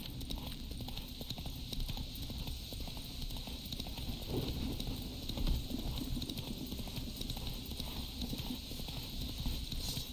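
Horse hooves galloping in The Witcher video game, a fast continuous clip-clop rhythm running steadily throughout over a dense bed of game ambience, with no speech over it.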